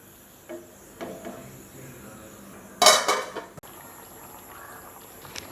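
A plate is set over a pot of potato and cauliflower gravy on the stove, giving a sharp ceramic-on-metal clatter in the middle. Fainter kitchen clinks come before it, over a quiet background hiss.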